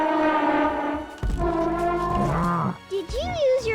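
A cartoon Corythosaurus dinosaur gives long, deep, sustained honks that resemble a horn or a lowing cow, loud and near, followed by shorter, rising and falling calls.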